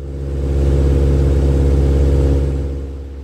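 A light backcountry aircraft's piston engine drones loud and steady in the cabin, swelling as power rises by 400 RPM for a climb and then easing slightly, a continuous deep hum with no talking.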